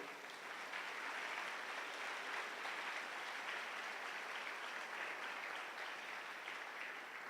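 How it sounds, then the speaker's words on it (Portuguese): A church congregation applauds during a sermon, a steady, even wash of many hands clapping that holds continuously throughout, heard alone at a moderate distance. "Dá um aplauso bem lindo ao Senhor"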